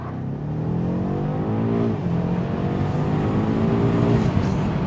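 A BMW M8 Competition revs hard, heard from inside the car with the windows down, its engine note climbing steadily in two rising sweeps at moderate loudness, with no talk over it.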